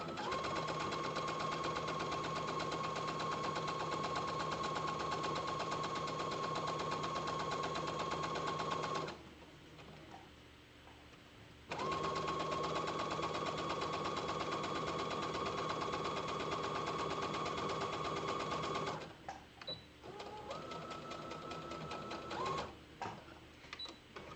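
A sewing machine stitches a t-shirt dress in long, steady runs with a pause partway through, then a final run that breaks into short stop-start bursts near the end.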